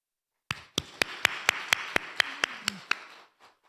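About ten sharp, evenly spaced claps from a church congregation ring out in a steady rhythm, with a bit of reverberation, then fade.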